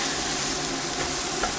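Meat browns in a hot pan for lasagne soup, giving a steady, close, crackling sizzle with faint stirring and no voices.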